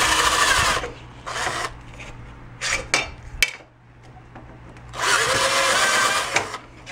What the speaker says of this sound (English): I pushed down just a little bit after it drilled and it kind of beveled that edge